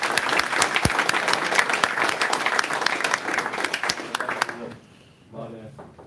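An audience at a university IT information session gives a warm round of applause, dense and sustained clapping that fades out near the end before a voice speaks.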